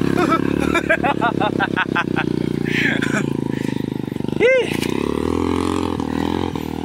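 Motorcycle exhaust on a rough mountain road: a steady, loud engine drone runs throughout, with brief voices rising over it.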